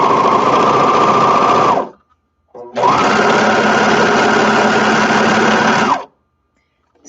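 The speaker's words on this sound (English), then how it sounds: "So I'm going to follow that while I sew" A Juki serger runs along a fabric edge with four threads, stitching in two loud, steady whirring bursts of about two and six seconds, separated by a brief pause and a short start-up stutter.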